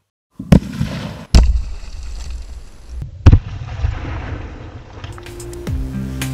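Rock blasting at a construction site: a sharp, loud detonation followed by a second heavy boom and another blast, each with rumbling debris and reverberation trailing off, ending in a low mechanical hum.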